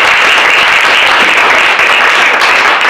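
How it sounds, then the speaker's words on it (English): A sales-meeting audience bursts into dense, sustained applause, loud and close, with many hands clapping steadily for the whole stretch and no voices standing out. "I think that by itself deserves a round of applause,"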